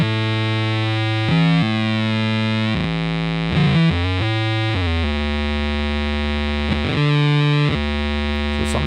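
A single guitar note runs through a Data Corrupter pedal, its loud, fuzzy, synth-like pitch jumping randomly up and down by octaves in uneven steps while it sustains, with no voice.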